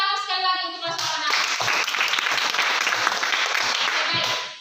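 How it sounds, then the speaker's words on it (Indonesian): A classroom of students applauds after a discussion and presentation. A brief voice is heard first, then loud, close, continuous clapping that lasts several seconds. "Tepuk tangan sekali lagi untuk kelas anak."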